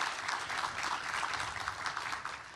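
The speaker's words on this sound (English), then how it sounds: "Let's give them a round of applause." Steady applause from an audience, continuous clapping at moderate volume with no pauses.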